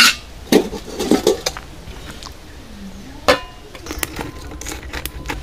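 A metal lid clanks onto a cooking pot of slow-boiling beef, giving a few sharp clattering knocks near the start and another bright clink later, with quieter kitchen rattles between.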